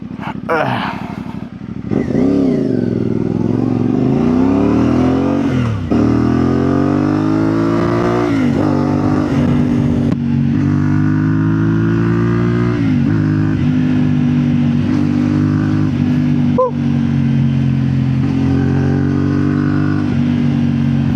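A 450MT motorcycle with a loud exhaust pipe revs hard, its engine pitch climbing and dropping through repeated throttle bursts, close and dominant throughout.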